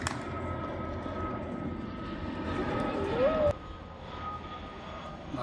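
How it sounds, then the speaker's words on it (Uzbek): An airplane passes overhead above a horse ranch near Kartepe, Turkey, its engine drone a steady distant roar that swells and then drops off sharply, with voices faintly underneath. "Mana samolyot uchib kelyapti."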